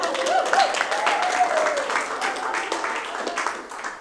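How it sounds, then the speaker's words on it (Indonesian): Church congregation applauding for Aser, a steady broadband wash of many hands clapping that holds for about four seconds, with talk mixed in underneath. "Tepuk tangan buat Aser dulu"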